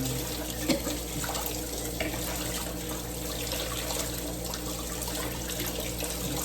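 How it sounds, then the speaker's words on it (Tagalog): Tap water runs steadily into a sink as chicken meat, soaked in salt and vinegar, is washed for adobo; a continuous close hiss and splash with light shifting from handling, no speech. "Huhugasan na lang natin."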